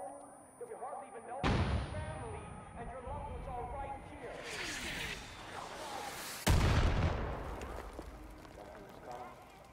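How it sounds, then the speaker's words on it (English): Mortar shells slam down in Far Cry 5 as two heavy booms a few seconds apart, with rumbling debris and gunfire between them, all under a player's talk. "Oh, mortar's coming down."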